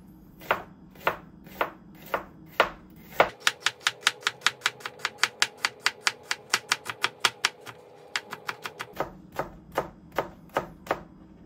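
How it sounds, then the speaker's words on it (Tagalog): A knife slices onions on a cutting board in crisp, evenly spaced chops, slower at first, then a quick rapid run of cuts before easing back to a slower rhythm, close and clear with no talk. "Slice na tayo ng sibuyas."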